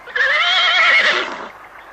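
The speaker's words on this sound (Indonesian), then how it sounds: "Kuda itu dilarikan ke segala arah, tapi terhenti oleh pohon besar yang lebat." A horse gives a loud, close whinny with a strong harmonic rise and a falling tail, lasting about a second and a half. No other sounds around it.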